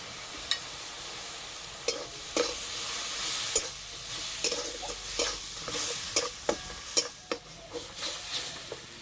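Sour greens (chukur/tok shak) sizzle and fry in hot oil in a village kitchen, with a steady hiss under repeated scraping stirs of a spatula against the pan.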